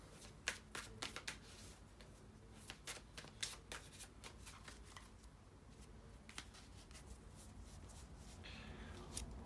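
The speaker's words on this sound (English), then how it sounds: "to shuffle the tarot cards" Tarot cards riffle and snap in quick, crisp bursts close by, with soft shuffling rustles in between and a low background hum.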